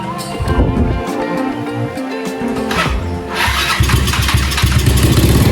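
A Yamaha Mio MX 125 scooter fitted with a Keihin PE26 carburetor cranks and fires up, loud and close. The engine settles into a rough, uneven idle with a few blips of revving.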